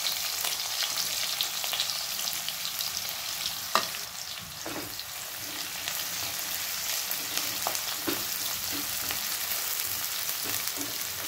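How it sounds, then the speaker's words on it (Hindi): Chopped onion fries in hot oil in a kadai, giving a steady, close sizzle throughout with occasional light scrapes and taps from stirring. "तेल हमारा गरम हो चुका है, अब इसमें हम डालेंगे 1 कटी हुई प्याज है,"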